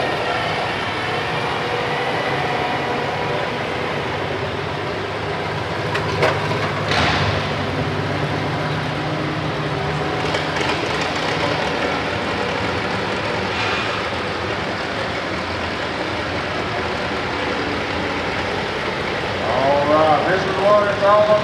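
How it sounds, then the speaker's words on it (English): An antique tractor engine at an East Tennessee antique tractor pull gives a loud, continuous droning roar with a steady whining tone that runs unbroken throughout, close and dominant. "This is what it's all about, tractor pulling."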